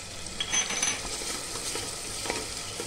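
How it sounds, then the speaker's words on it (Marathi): Ginger-garlic paste sautéing with onion and chopped tomato in a pan, a steady close sizzle with scattered scraping stirs and light clinks throughout, no voices. "अद्रक लसूणची पेस्ट आहे ना अशी मस्त परतून घेणार आहोत"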